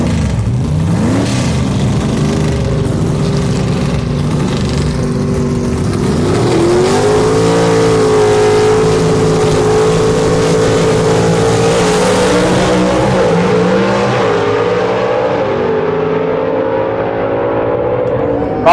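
A/Gas gasser drag race car at Shadyside Dragway roars under hard acceleration, engine pitch climbing and shifting through a long, loud, continuous pull with race announcing mixed in.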